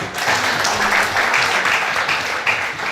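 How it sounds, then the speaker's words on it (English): An entrepreneurship event crowd in Ilorin gives a burst of applause, thick continuous clapping with a few voices underneath, loud and close. "can I get that clap again?"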